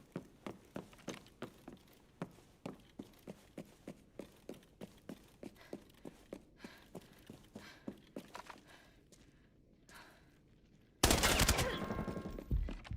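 Gunfire in a video game, a steady run of evenly spaced single shots, about two per second, that thins out and fades before a sudden loud, dense burst of noise at the end.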